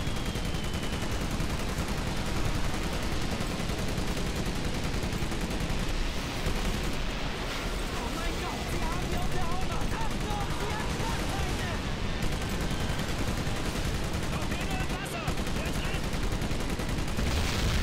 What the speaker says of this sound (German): Ich schieße einfach mal ein bisschen nach oben und guck, was passiert.